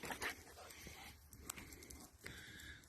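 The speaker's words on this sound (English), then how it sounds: "a very excited puppy dog" An excited puppy dog on a farm makes quick yelps and whimpers close by, short bursts amid rustling and movement outdoors.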